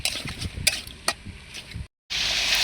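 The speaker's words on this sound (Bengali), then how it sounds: "কুমড়োগুলোকে একটু কষিয়ে নেব ভালোভাবে" Pumpkin pieces sauté in spiced oil in a pan, with close stirring scrapes and clinks over a soft sizzle, then a brief pause before a steady, brighter hiss of frying.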